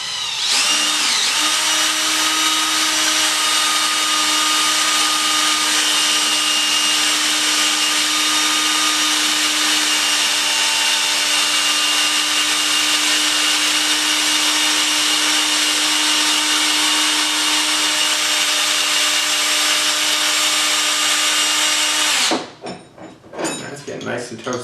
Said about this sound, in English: I'm going to chuck this end into my drill and just kind of use a wrench here.